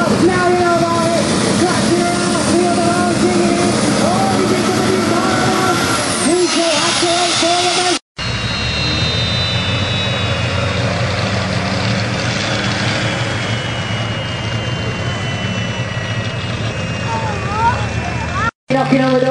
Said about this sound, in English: Knocking on the door of 1400 horsepower, this smaller Chevy engine.